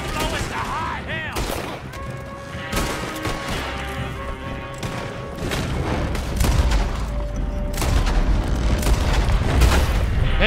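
Gunfire in the Western game Red Dead Redemption 2, scattered loud shots and booming reports over a background mix that grows denser and louder toward the end.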